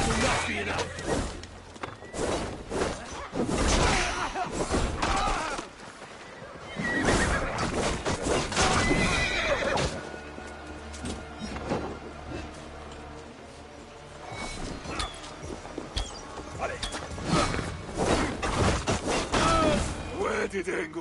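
Horse neighing and hooves thudding in the Assassin's Creed Valhalla video game, whinnies and clattering amid combat noise and game music, with characters talking over much of it.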